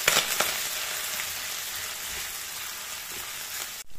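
Mushrooms, onion and garlic frying in a pan for stir-fried red spinach, a steady broadband sizzle throughout with a few sharper crackles near the start and a brief dip just before the end.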